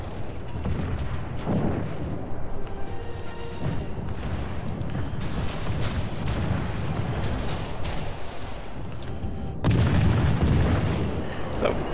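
Torpedo explosions in the naval battle game World of Warships, with deep rumbling booms rising out of a constant roar of battle noise and a louder blast near the end.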